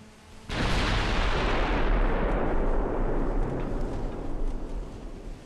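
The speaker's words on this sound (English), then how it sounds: "All three salvos from the three main turrets that actually fired." Main-turret salvos from the battlecruiser Renown in the Ultimate Admirals naval game, a sudden heavy boom followed by a long rumbling roll that slowly fades.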